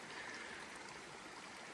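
High Creek, a mountain creek in the San Gorgonio Wilderness, rushes along in a steady, even wash of flowing water, soft and continuous with no other sounds.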